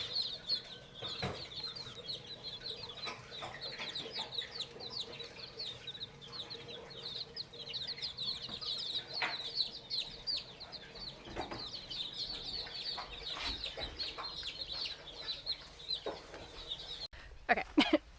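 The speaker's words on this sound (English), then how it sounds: "So that's our big future flock of Polish chickens." A big brood of young Polish chicken chicks cheeping and clucking nonstop in a busy, overlapping chorus, close by, with a few handling bumps near the end.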